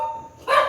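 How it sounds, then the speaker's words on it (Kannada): Dogs barking near a house: after a quiet stretch, a single loud, close bark bursts out right at the end. "ನಮ್ಮನೆ ಹತ್ರ ನಾಯಿಗಳು ತುಂಬ ನಾಯಿಗಳೈತೆ. ಯಾರೂ ಕೂಡ ಬರೋಕ್ಕೆ ಬಿಡಲ್ಲ."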